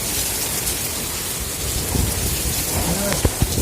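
A heavy rainstorm roars outside a window in Devgam village in the Gir region of Gujarat, a constant loud downpour with a few sharp thunder cracks toward the end.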